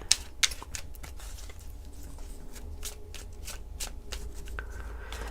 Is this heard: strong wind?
no